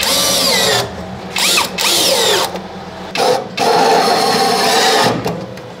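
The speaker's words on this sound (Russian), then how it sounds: "посвободнее, с саморезиками ее прихватим." A power screwdriver drives self-tapping screws into a pipe while fitting a grille, with loud whining bursts of varying pitch separated by short pauses, close and alone.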